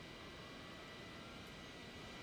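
A Mi-17 helicopter engine starting in Microsoft Flight Simulator gives a faint, steady whining hum with a constant airy rush. Nobody talks.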